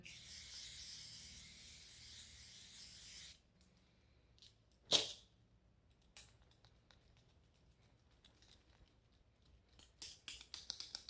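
A short sharp burst of Corpse Bride makeup setting spray hisses once in the middle, followed by soft clicks and taps in an otherwise quiet room.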